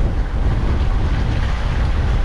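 Steady wind and rolling sea swell aboard a sailboat at dawn in the Saint Vincent channel off the Grenadines, a continuous loud rushing roar with low, heavy wash and no voices.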